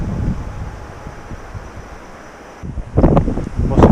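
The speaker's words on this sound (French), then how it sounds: "Le vent dans le dos." Steady wind rushes and buffets the microphone outdoors on the Véloscénie route in Lower Normandy, France, growing louder in gusts toward the end.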